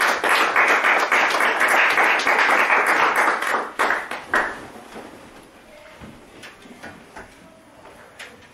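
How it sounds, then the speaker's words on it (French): A church congregation applauds during a service, with dense, loud clapping for about four seconds that then thins into scattered, fading claps. "Let's give Jesus a big hand."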